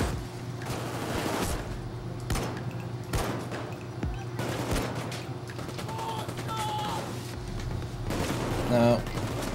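Rapid bursts of gunfire from the video game Payday 2 crackle almost nonstop over a steady low background, dense and loud with brief gaps and a few mechanical clicks.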